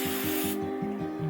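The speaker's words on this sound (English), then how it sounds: "we're going to take our hairspray and we're going to go ahead and spray it" Hairspray sprayed onto hair in one continuous hissing burst, loud and close, with a faint low rhythmic hum running underneath and no talking.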